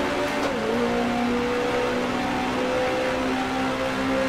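A 1966 Grand Prix racing car in the Grand Prix Legends game, on the New Zealand Grand Prix circuit, gives a loud, continuous engine drone whose pitch drops at a gear change and then climbs steadily.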